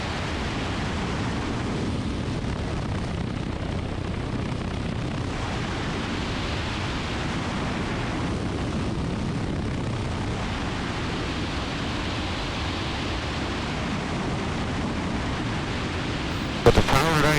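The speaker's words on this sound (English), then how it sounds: "With the powered idle, I can feel the airplane dropping." A light airplane's engine sits at powered idle on final approach to a grass runway, heard from inside the cockpit as a steady, broad rushing drone, with a short click at the end.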